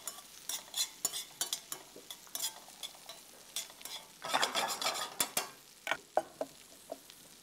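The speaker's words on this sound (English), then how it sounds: "Lightly saute this and then I'm going to put in the corn kernels." Corn kernels and garlic sautéing in a pan, with a spoon repeatedly stirring and scraping through the sizzle in quick, irregular bursts, close and clear, with no voices.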